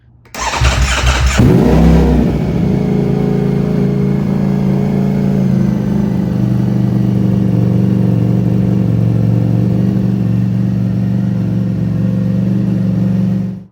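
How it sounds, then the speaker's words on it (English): A loud 2025 Ducati Panigale V4 engine with an aftermarket Akrapovic exhaust starts up and settles into a steady, deep, rumbling idle that continues throughout with no talking. "Dear Lord, that is loud. I couldn't even talk over the exhaust."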